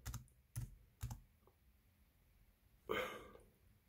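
Sparse typing on a computer keyboard: three distinct keystrokes a half-second apart, then a short cluttered burst of keys, all soft and close in a quiet room.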